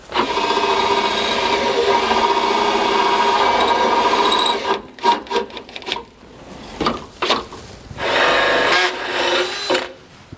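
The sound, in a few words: power drill drilling hole for anti-sway bar on Mercedes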